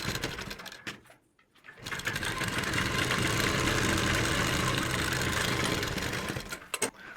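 A sewing machine stitches the plates of a kameez, a close, steady mechanical whir with a brief stop near the start before a long continuous run that winds down at the end.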